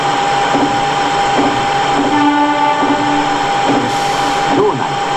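A Series 211 commuter train runs on the Osaka Loop Line in Densha de GO!, with a steady hum of motor and rolling noise, a high whine, and soft repeated rail clicks, while someone speaks over it.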